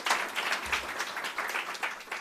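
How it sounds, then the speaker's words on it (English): Applause for a city aging commissioner at an age-friendly livability event, a steady wash of clapping from a seated audience heard at moderate distance, continuous throughout. "Let's give her a round of applause."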